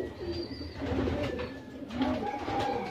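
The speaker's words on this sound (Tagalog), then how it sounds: "Tayo nagpapakain mga kalapatids" Pigeons at feeding time, soft repeated coos and low throaty murmurs close by, with a few faint chirps over a quiet background.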